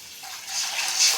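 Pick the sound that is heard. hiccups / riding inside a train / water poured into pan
water poured into pan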